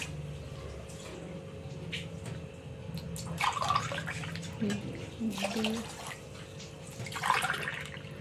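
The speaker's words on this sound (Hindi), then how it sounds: "देखिए, हमने इसमें 6 ग्लास पानी डाले हैं" Water is poured into a cooking pan to make sugar syrup for gulab jamun, a faint splashing trickle in bursts within a quiet kitchen, with no talk.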